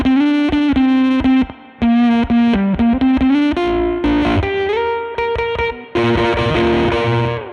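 An electric guitar through a fuzz pedal plays a riff, loud and saturated, moving up the neck in choppy strummed bursts with short gaps before sustained fuzzy chords.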